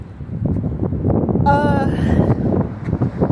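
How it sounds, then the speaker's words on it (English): Wind buffets an outdoor microphone with a steady, loud rumbling roar throughout, a thin whistling tone rising briefly in the middle, with no clear speech. "Sorry y'all for the wind. I can't control it."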